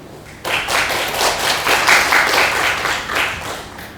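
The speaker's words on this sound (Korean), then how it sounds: "박수로 환영하겠습니다." Audience at an education participation committee meeting breaks into applause for the education superintendent, a quiet moment giving way to sustained dense clapping from many hands, loud and even, with no talk over it.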